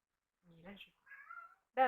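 A pet cat named Katniss meows in a house, a couple of short, drawn-out cries close by, mixed with someone speaking French.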